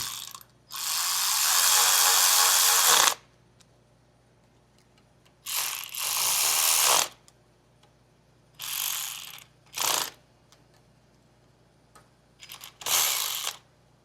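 Ratchet wrench tightening hex bolts on a MetalCloak Fox tie rod steering system on a Jeep Wrangler JK Rubicon, loud close clicking bursts in several runs separated by pauses, no talk.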